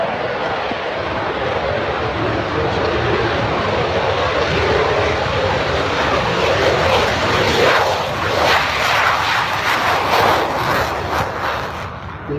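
An RC model airplane drones steadily overhead, a continuous loud engine whine that swells and fades slightly as it flies, with faint crowd ambience beneath.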